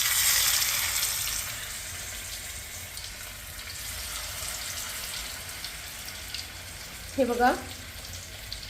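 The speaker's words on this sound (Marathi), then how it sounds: "सो तेल तापलेलं आहे आणि आपण आता ही एक एक वडी तेलामध्ये टाकूया आणि सुंदर तळून घेऊया" Pieces of alu vadi, colocasia leaf rolls, deep frying in hot oil, giving a steady broad sizzle that is loudest at the start and then settles. A brief spoken exclamation comes near the end.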